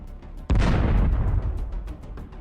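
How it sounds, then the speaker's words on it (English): A single deep explosion from a Russian drone strike on a bunker, a sudden loud boom that rolls out into a long rumbling decay. "Explosions echoed in the air, and the building shook with each attack."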